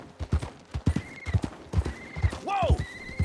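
Horse hooves clip-clop in a quick, regular rhythm in Red Dead Redemption 2, close and clear, with a horse's whinny rising near the end.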